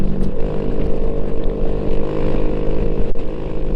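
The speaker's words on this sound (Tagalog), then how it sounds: "Umingay talaga yung tambutso natin," Loud, steady motorcycle exhaust drone while riding along a coastal road in Negros during the Masskara Unity Ride, a continuous rumbling engine note with wind noise and no pauses.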